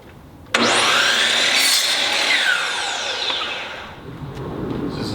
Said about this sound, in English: You draw the line, hold the miter saw, you know, these tiles.